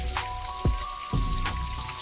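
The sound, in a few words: waterfall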